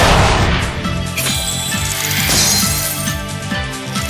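Dense, loud burst of crackling and shattering from an Ice Make skill effect in the arcade game Sengoku Taisen, with ringing tones and rumbling layered throughout.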